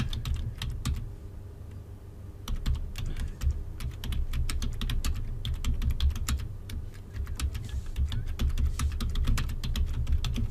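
Someone types on a computer keyboard to enter a transaction narration in Tally Prime accounting software, with quick irregular key clicks over a low steady hum, close and continuous, with no talking.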